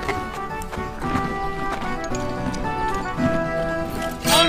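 Rhythmic hoofbeats of a galloping horse clatter steadily and close by, with a brief whinny-like burst at the end.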